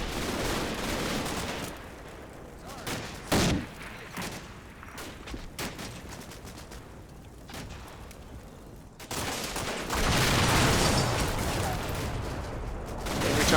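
Bursts of MG-42 machine gun fire and scattered gunshots in the Combat Mission: Battle for Normandy wargame, with a sharp close burst early on and denser, louder firing toward the end over a steady battle din.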